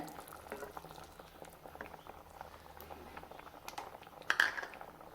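A pot of egg curry with tamarind water bubbles and simmers steadily up close, soft popping and gurgling, with a brief louder clink near the end.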